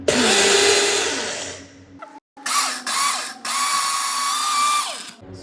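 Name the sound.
mixer grinder grinding masala spices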